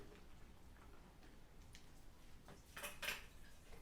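A spoon stirs boiling pork pochero stew in a pot, giving soft scraping and a few faint metallic clinks near the end over a quiet, low background.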